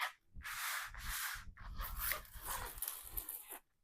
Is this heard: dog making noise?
yes